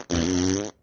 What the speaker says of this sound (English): let's fart on him